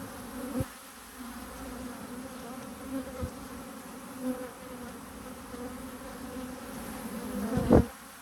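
Honeybees buzz around an open hive frame during a colony split, a soft, steady hum running throughout with a few brief louder bumps near the close.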